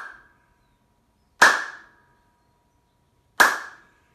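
Two sharp, high popping hand claps, cupped palms aligned to trap air between them, each crack ringing briefly then dying away, spaced about two seconds apart with silence between.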